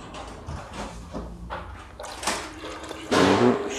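Paint thinned with 48-88 thinner being stirred in a container, a series of wet sloshing and scraping strokes that build louder toward the end, close by with no talk.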